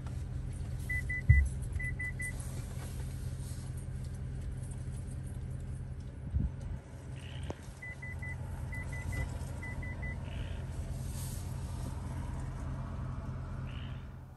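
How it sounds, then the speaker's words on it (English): Rear cross traffic alert on a Toyota Tundra Platinum chimes in short repeated groups of beeps, two bursts early then three more later, over a steady low engine and road rumble with a few faint clunks. "Lets you know and it starts beeping at you if there's a car or a pedestrian or a dog or a bicyclist coming."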